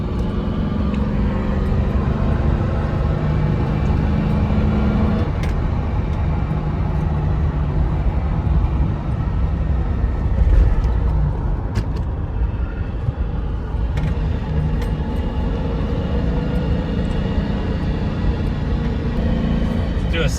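A 1999–2006 GMC Yukon Denali, converted from automatic to an NV3500 manual transmission, cruises along. A continuous loud rumble of engine and road noise fills the cabin throughout, with no pauses.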